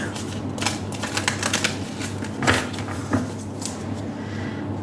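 Tarot cards riffle and flutter in quick bursts, a dry rapid patter close by, followed by a few softer slaps and slides.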